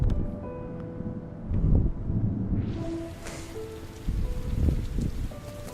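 Rain begins falling partway through, a hiss of drops spreading over a surface, laid over low rumbling wind and outdoor background noise that swells and fades.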